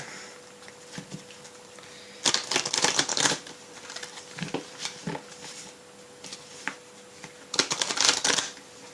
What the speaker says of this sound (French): Je vais bien les brasser parce que